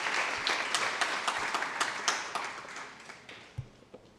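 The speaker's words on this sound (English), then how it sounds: "Can we please give a round of applause for the moderator and the panel?" Audience applause for a moderator and panel at a peace and security symposium in Musanze, Rwanda: scattered, fairly light clapping with distinct individual claps, gradually thinning out toward the end.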